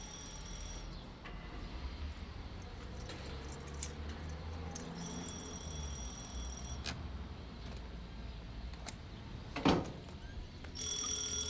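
Telephone bell ringing indoors, a faint repeated ring over a steady low background hum, with a sharper knock or clatter near the end.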